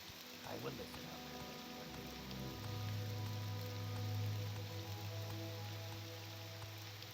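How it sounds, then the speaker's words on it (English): Rain falling in Balmora in the video game Morrowind, a steady even patter of drops with a constant low tonal drone underneath, holding at a moderate level throughout. "Like the rain in Balmora and in Seydanine."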